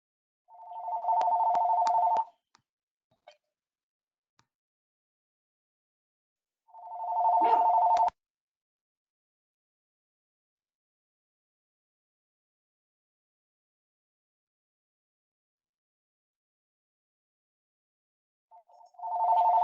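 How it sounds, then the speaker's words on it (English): A telephone rings during a lecture in a quiet room: three bursts of a trilling electronic bell, two close together near the start and a third after a long silence, with no talk between them. "Oh, apologies for the obnoxious phone."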